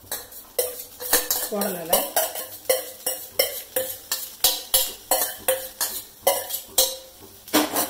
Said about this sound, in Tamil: அப்படியே ஒரு உருண்டை போல வரது வரைக்கும் கிளறி விடணும்.